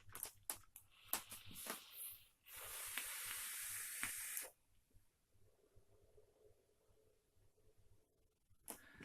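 Pulls on a Drop Dead RDA vape come as a steady hissing draw lasting about two seconds, framed by faint clicks and taps, then a softer airy exhale afterward; quiet and close, with no talk.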